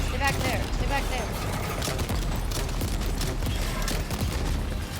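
Gunfire and explosions in the video game Death Stranding 2, a dense continuous barrage of shots and booms under a voice talking throughout.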